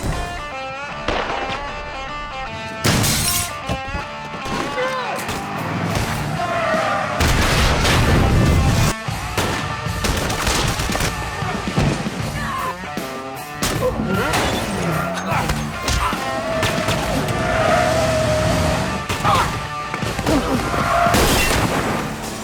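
Stunt explosion on a television action series set, with a loud boom and crashing debris among dense, chaotic noise and brief voices.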